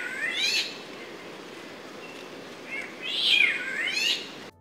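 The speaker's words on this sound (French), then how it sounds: "Mais j'ai eu accès au cri du monarque de Fatouiva" A Fatu Hiva monarch gives two harsh, wailing calls, each a rising and falling screech like a cat's yowl, with a quiet pause between them.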